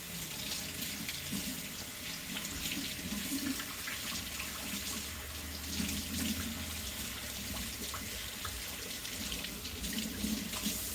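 Kitchen tap running water over three or four celery stalks being rinsed in the sink; a steady, close splashing stream that continues unbroken with no speech.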